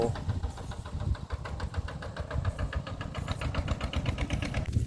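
A tractor engine runs steadily in a rural field, with a rhythmic mid-pitched chugging throughout and no voices.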